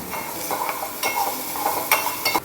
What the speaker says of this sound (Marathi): थोडंसं तेल, मोहरी, मिरी घालून फोडणी घातली